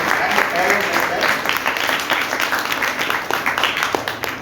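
Hearty audience applause at a girls' school program for teachers and parents, many hands clapping at a steady pace and gradually thinning toward the end, with faint voices underneath.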